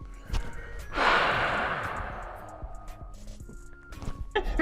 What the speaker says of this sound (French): excusez-moi pour ma respiration parce que j'ai un peu couru pour faire tout ça, alors je suis un peu essoufflé